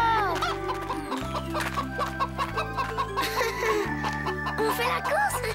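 A hen clucks repeatedly in quick bursts, close by, over a steady background music bed.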